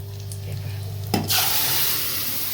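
A sudden loud sizzle bursts in partway through as a tempering with asafoetida hits hot oil for dal, then settles into a steady hissing crackle.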